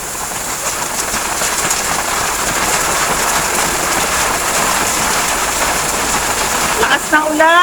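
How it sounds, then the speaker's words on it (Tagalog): Heavy rain pours steadily at midday on a street so dark the street lights are on, a dense, loud hiss with close spatter and drips throughout, and a voice speaks briefly near the end. "Lakas ng ulan."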